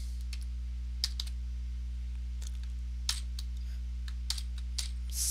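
Scattered keystrokes as C# code is typed on a computer keyboard, a handful of sharp clicks spread unevenly over a steady low electrical hum.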